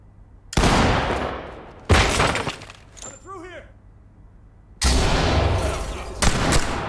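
Bursts of gunfire from Ready or Not come as loud, sharp blasts in three separate clusters, with short quiet gaps; a brief chirping tone sounds in one gap.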